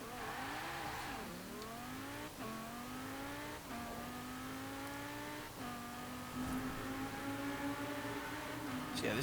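A 2017 Mercedes-AMG GT R in Forza Horizon 4 accelerates hard, its engine note climbing steadily through several quick upshifts with brief dips between gears, loud and close throughout.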